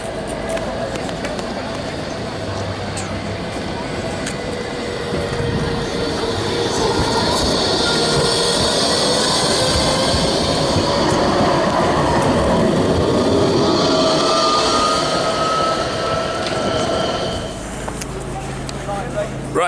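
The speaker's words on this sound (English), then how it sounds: "Comes tram 201, which is actually branded Torville and Dean." Nottingham tram 201 rolls past on its rails in an outdoor city market setting, a steady loud rumble with faint wheel squeal and tonal whine building and fading over about twenty seconds, with light background voices.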